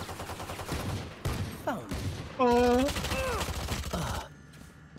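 Frenzy pistol fire in the tactical shooter Valorant, brief sharp shots among game sounds and excited talk from players.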